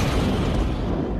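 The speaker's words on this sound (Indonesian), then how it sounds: "Tiba-tiba ledakan yang sangat dahsyat terjadi." A massive explosion tears through the White House in the action film White House Down, a dense, loud, continuous rumble that fills the short moment without a break.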